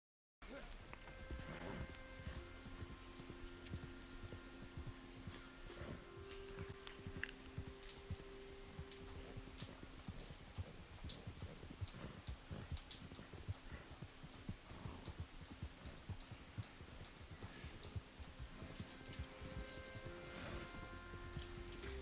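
A horse's hooves clip-clop in a steady, rapid gallop in Red Dead Online over a dense, rumbling ambient backdrop, moderately distant and continuous throughout.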